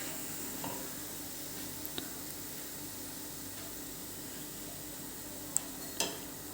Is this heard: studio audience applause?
no